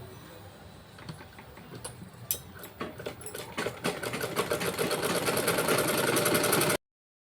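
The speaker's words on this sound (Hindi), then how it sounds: "अब हम इसके चारों तरफ सिलाई लगाएंगे" Sewing machine stitching lining around a blouse piece: a few short, halting bursts of needle clatter at first, then a steady, close, continuous whir with rapid rhythmic ticking.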